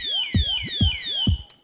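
Padlock with a built-in 110-decibel alarm going off, a loud, piercing electronic siren sweeping down in pitch again and again, each sweep punctuated by a sharp chirp, with no voices over it.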